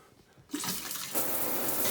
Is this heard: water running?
yes